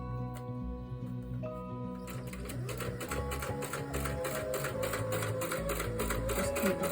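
A sewing machine stitching back tacks at the start of a seam for a fabric tissue holder, its rapid mechanical clatter close and steady, picking up speed partway through, with no voices.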